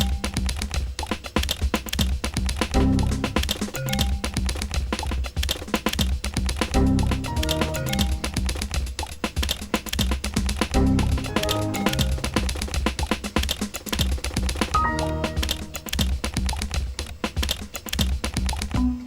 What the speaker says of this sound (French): Le clavier n'est pas un jouet, c'est un outil de travail.